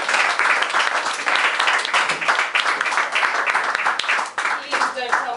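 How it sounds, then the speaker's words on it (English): A small open mic poetry crowd in Paris applauds the evening's photographer, brisk clapping close to the listener with cheers and chatter mixed in throughout. "can we give him a round of applause for being our paparazzi tonight?"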